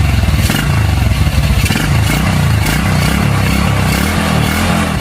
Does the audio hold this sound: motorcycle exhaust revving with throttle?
yes